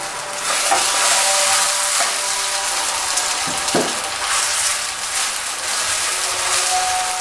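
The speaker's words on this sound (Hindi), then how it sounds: "आगे पीछे से अच्छी तरह इसको फ्राई कर लेना। ये देखिए तमाम टिक्कियाँ जो है हमने फ्राई करनी है।" Potato kebab patties for street-food bun kebab frying in a little oil, a loud, dense, continuous sizzle with a brief scrape of a spatula partway through, heard close up.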